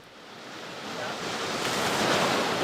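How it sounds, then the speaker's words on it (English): Roaring torrent of glacier meltwater rushing off a glacier, a dense, steady broadband roar that swells gradually louder across the clip, with no voices. "the sound of melting water rushing off the glacier turned into a roar"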